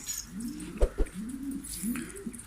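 Şanlıurfa filo pigeons cooing nearby, several soft low throaty coos in a row, with a couple of sharp clicks in the middle.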